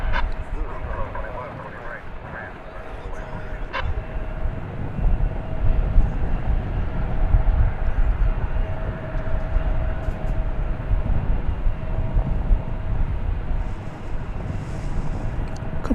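A heavy airliner taking off at DFW Airport at night gives a deep, sustained, distant jet roar that swells and holds steady, with talk over it.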